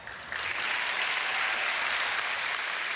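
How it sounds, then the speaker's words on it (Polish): Crowd applause at a festival song concert, a dense, continuous roar of clapping that swells after a brief quieter start and holds steady, heard from within the hall. "poprosimy o brawa"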